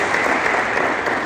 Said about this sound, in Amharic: ለራሳችሁ አጨብጭቡ